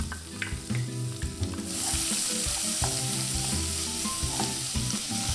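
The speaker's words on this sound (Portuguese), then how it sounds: "Já tá bem fritinho, vamos colocar a cebola" Chopped onion sizzles and fries in a pan while rice carreteiro is being made, a steady close crackle with occasional stirring scrapes and no talk.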